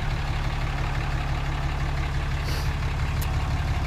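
A 2016 RAM 2500 Crew Cab Limited with the 6.7-litre Cummins diesel idles steadily after a remote start, giving a constant low rumble throughout with no talk.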